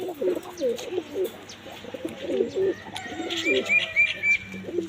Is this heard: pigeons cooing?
yes